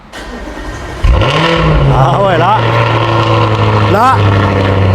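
An Audi RS5 engine fires up about a second in with a loud burst, then settles into a steady idle broken by two sharp throttle blips that rise and fall; the car is close, and someone talks briefly over it.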